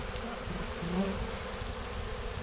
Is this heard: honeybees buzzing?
yes